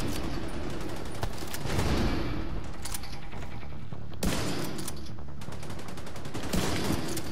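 Dense, continuous bursts of rapid gunfire in the video game The Division 2, loud and close, with heavier shots punctuating the steady barrage.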